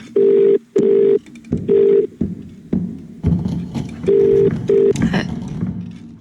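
A telephone rings in The Cat Lady video game, with steady repeated electronic ring bursts in a regular on-off rhythm, loud and close, alongside faint background noise.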